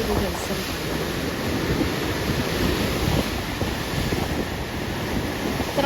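Sea waves break on a rocky shore near a mosque at Beemapally, a continuous rushing surf with wind noise on the microphone.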